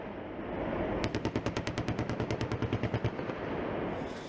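An M230 chain gun firing from an AH-64 Apache helicopter: a sustained burst of about twenty evenly spaced loud shots over a roaring rotor drone, lasting roughly two seconds, with no talking.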